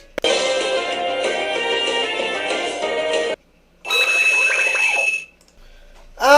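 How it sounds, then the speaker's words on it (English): Beheeyem's cry from a Pokémon video game: a loud, shrill, harsh synthesized screech lasting about three seconds, followed after a short gap by a second grating burst of similar length and the start of a third. "Behemoth has the most ear-bleeding cry out of any Pokemon ever."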